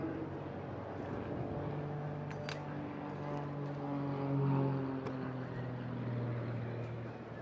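An aerobatic aircraft flies a wingover at a seaside airshow, its engine a steady droning hum with slowly shifting pitch, distant and fairly faint, with an announcer's voice over it.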